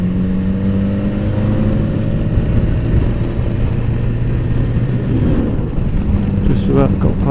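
An XR motorcycle rides past a tractor on a country road, a steady low engine drone with tonal harmonics holding throughout and a brief rise near the end, loud and close.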